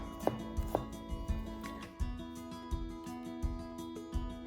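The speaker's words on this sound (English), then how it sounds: "Finely mince about an inch of ginger and 2 to 3 cloves of garlic." A knife finely minces fresh ginger and garlic cloves on a cutting board in a home kitchen, making quick, uneven taps and thuds that sound close but soft, with no talking.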